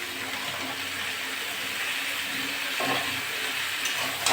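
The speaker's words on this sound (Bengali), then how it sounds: "এবার ডাঁটাগুলো দিয়ে দেবো।" Pumpkin stems hitting a pan of frying aubergine and being stirred, giving a steady broadband sizzle with scraping stir strokes throughout, loud and close with no voices.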